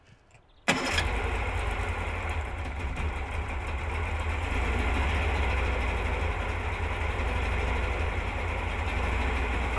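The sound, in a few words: Yamaha 40 6H4 outboard motor running with hand throttle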